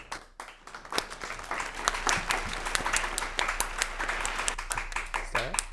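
A small group claps for several seconds in a casual indoor game-show setting, steady uneven hand claps with voices talking over them.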